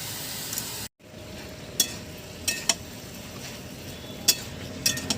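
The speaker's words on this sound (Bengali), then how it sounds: "একটু নাড়াচাড়া না করে দিলেই নয়।" Turul stems and papaya frying in a pan, a steady sizzle with sharp utensil scrapes and taps from stirring at irregular intervals, close by with no talking.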